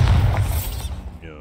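A Bombarda spell blast in Hogwarts Legacy: a single deep, booming burst with a crackling, shattering edge that fades out over about a second, with a voice briefly heard over it.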